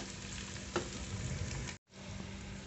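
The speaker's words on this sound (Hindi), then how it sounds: "और इसको अच्छे से इसके अंदर मिक्स कर दूंगी मसाले के अंदर" Taro (arbi) being stirred into masala frying in a pan, a steady close sizzle with a scrape of the spoon, cut by a brief silent gap near the end.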